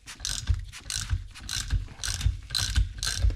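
A socket ratchet clicks rapidly in repeated strokes while undoing the 5mm Allen screws on a Honda Goldwing GL1500 front fork, close up with a rhythmic pawl chatter and no talking.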